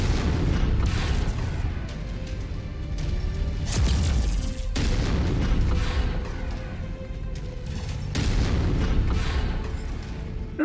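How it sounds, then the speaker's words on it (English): Missiles exploding on impact in the video game MechWarrior 5 with the Mechwarrior Enhanced mod, a heavy run of loud booms and crashing blasts, with several big hits standing out over constant rumbling battle noise. "that was a lot of missiles that hit right there"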